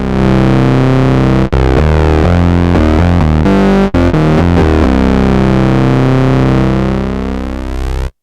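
A Sequential Prophet 6 analog synthesizer plays through its built-in distortion, giving loud, buzzy sustained chords that shift between notes with a couple of abrupt cutoffs before fading out.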